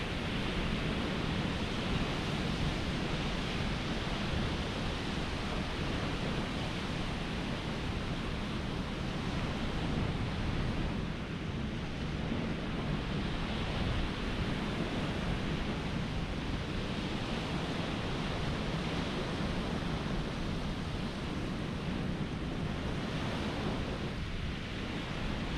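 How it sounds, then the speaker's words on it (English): Shallow sea waves on the Lincolnshire coast at Sandilands as the tide goes out, a continuous broad wash of surf breaking close together with steady wind noise, loud and unbroken throughout with no voices. "The waves are getting close and very close together because it's shallow"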